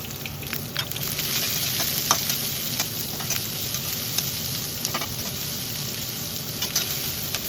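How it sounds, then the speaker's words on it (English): Chopped onions sautéing in a pan of oil with whole spices such as black cardamom, a steady close sizzle with scattered crackles and occasional stirring scrapes, no voices. "Now add the chopped onions and saute for 2-3 minutes."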